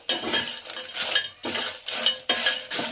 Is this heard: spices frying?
yes